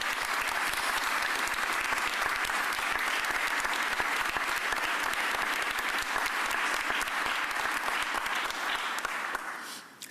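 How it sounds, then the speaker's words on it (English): A crowd at a Philadelphia mayoral press conference applauds organized labor after a city workers' union ends its strike, a loud, dense, sustained round of clapping that runs unbroken for about ten seconds before trailing off. "Give labor a round of applause."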